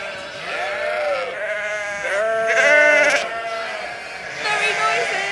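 Lambs and ewes bleat at feeding time during lambing season. The calls are loud, close and overlapping, long wavering cries one after another, with a person talking among them.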